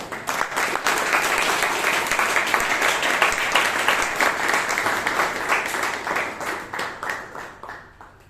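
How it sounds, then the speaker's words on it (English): A Toastmasters meeting audience in Bangalore gives a round of applause to a speaker, dense steady clapping from the whole room that holds strong for most of the stretch before thinning out toward the end. "A big round of applause to Murlidharan"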